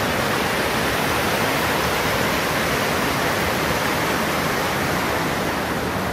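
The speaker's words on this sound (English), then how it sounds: "Another waterfall." A waterfall near Lake Solitude on the Teton Crest Trail makes a steady, dense rushing roar that stays even and unbroken throughout, with no voices.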